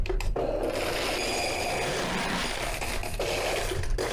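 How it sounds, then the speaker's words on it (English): A soap vending machine in a laundromat runs with a steady mechanical whirring and grinding hum that holds for about four seconds, close and fairly loud, with no talk over it. "And then the soap machine."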